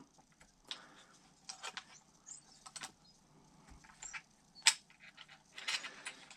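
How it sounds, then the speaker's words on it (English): An ignition wrench cranks on an RC car during an electronics install, producing scattered small metallic clicks and ratcheting ticks in irregular bursts, close and fairly quiet, with one sharper clack partway through and no talking. "I'm literally just going to give it some cranks with an ignition wrench just to see if I can get it to tighten up"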